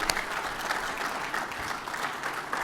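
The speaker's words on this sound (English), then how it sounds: "Let's give him a hand clap." Audience applause at a leadership talk, a steady wash of many hands clapping throughout, moderately loud and continuous without speech over it.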